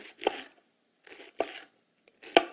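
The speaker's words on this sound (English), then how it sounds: "using my chef's knife, I'm going to use a down and through slicing motion" A chef's knife slices raw kale into thin chiffonade strips on a cutting board: three separate crisp, tearing cuts about half a second long, evenly spaced and close, each ending in a sharp tap, with quiet gaps between.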